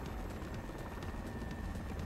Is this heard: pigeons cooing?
no